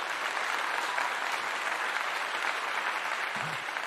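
Sustained round of applause from an audience, an even wash of clapping at steady loudness throughout with no voices over it.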